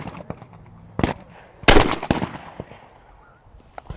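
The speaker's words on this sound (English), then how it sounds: "I've never shot a gun before, so let's see how I do." Several sharp shotgun blasts at a clay target range, loud and close, with the biggest report landing mid-clip, plus a few smaller pops and quiet gaps in between.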